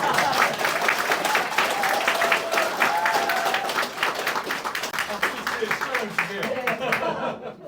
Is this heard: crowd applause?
yes